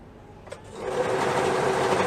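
A sewing machine stitches a neckband onto a boys' pajama top, starting after a brief tap and then running in a steady, continuous close-up whir to the end.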